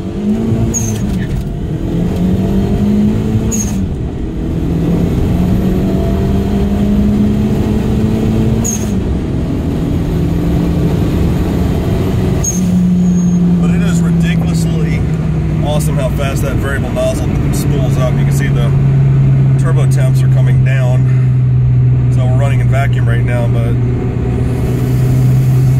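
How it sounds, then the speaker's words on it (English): A GTi car with a variable nozzle GT2256 turbo and 450cc injectors accelerates hard with wheel spin, its engine note rising and falling through gears under steady loud cabin rumble while someone talks throughout. "This is running a variable nozzle GT2256 turbo 450cc injectors."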